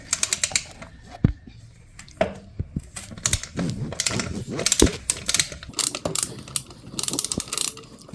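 Bolts being loosened from a Stark Varg electric motorcycle battery: repeated sharp ratchet clicks come in quick irregular bursts, with metallic clinks and handling noise close by and brief pauses between runs.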